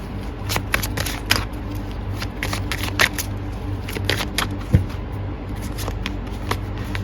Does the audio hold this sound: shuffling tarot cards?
yes